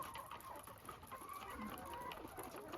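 Chickens cluck on a farm, a faint, distant scatter of short clucks over a quiet background hiss.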